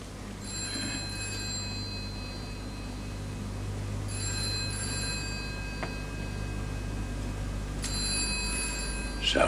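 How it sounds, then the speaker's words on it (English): An old-fashioned telephone bell rings in short bursts, three rings spaced a few seconds apart, heard over a constant low background hum in a 1974 thriller. "Sounds like the phone's ringing."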